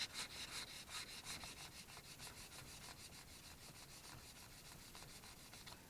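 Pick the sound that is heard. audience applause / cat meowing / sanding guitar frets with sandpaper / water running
sanding guitar frets with sandpaper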